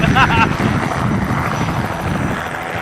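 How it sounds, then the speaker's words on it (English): Loud, close helicopter running at a small-airfield aero club gathering, its rotor and turbine roar continuous and steady, with a voice briefly audible over it. "we got the helicopter going here"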